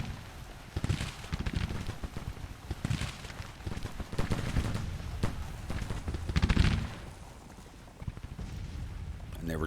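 Volleys of musket and cannon fire in a Civil War video game battle, a continuous rumble of overlapping shots with heavier booms swelling and fading in waves.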